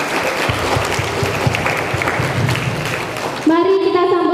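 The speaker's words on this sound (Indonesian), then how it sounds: "Beri tepuk tangannya." Audience applause at an Indonesian school talk event, a dense, steady wash of many hands clapping for about three seconds before a voice takes over near the end.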